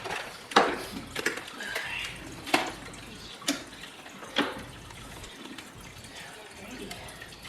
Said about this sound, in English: Okay, so I'm taking water out.